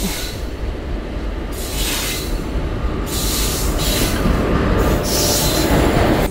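A Bombay-bound train rolls past at close range, loud and continuous, with heavy wheel rumble, rhythmic clatter over the rails and bursts of high squealing from the wheels.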